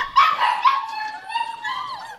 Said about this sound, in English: the dogs in the fenced off pen, the ones making all that noise